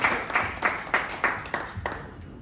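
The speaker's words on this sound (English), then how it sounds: "We would like to give her a round of applause, please, and welcome her." Audience applause welcoming a commissioner at a Martin Luther King legacy observance, heard as a short burst of claps with distinct rhythmic peaks that thin out toward the end, moderately loud and with no voices over it.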